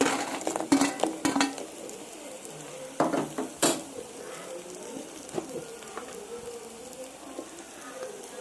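Golden-brown onions frying in a pan as a ground chutney paste goes in, with a few loud clunks and spoon scrapes up front, then a soft continuous sizzle and occasional stirring taps.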